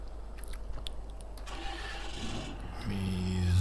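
A tractor engine in Farming Simulator 15 cranks and catches, settling into a low steady idle that grows slightly louder toward the end, heard alone without talk.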